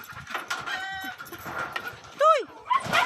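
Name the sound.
chicken clucking while being chased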